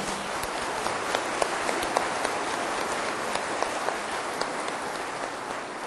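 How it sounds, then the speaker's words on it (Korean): At an international leaders assembly, a large gathering breaks into sustained applause of welcome, an even, continuous roar of many hands clapping at steady volume throughout. "자, 박수로 환영해요."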